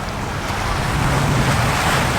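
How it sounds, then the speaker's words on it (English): Choppy ocean water off the coast of Aruba, steady close rushing wash and churning waves with wind buffeting the microphone throughout. "The water is a bit more choppy on this side of the island here"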